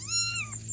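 An abandoned baby kitten gives one close, clear meow with a drawn-out falling pitch over a faint steady hum.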